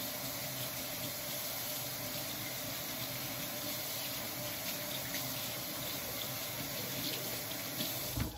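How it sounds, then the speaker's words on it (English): A kitchen tap runs steadily into a sink while hands are washed, a continuous close rush of water with faint splashing, no talking. "And wash my hands again."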